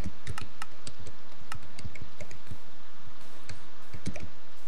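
Computer keyboard keys clicked repeatedly during Minecraft play, a close, irregular run of sharp plastic taps, some in quick pairs, with no voice over them.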